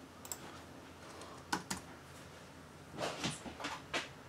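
Keys tapped on a computer keyboard in short irregular bursts, a few isolated clicks early on and a denser flurry near the end, fairly close and quiet with no talking.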